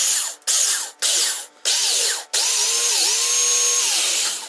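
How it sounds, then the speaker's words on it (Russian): Power drill with a wood bit boring two holes in wood while a snow shovel is being assembled, loud close whine in several short bursts, then one long steady run with the pitch dipping under load. "Сверло нужно по дереву взять и высверливаем два отверстия."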